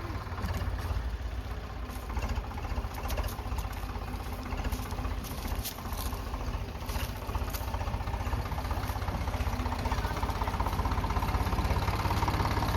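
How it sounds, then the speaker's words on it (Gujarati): A tractor engine runs steadily at a village mango orchard, a loud continuous low rumble with an even idling throb that carries unchanged for the whole stretch. "ટ્રેક્ટર લઈને આવી ગયા"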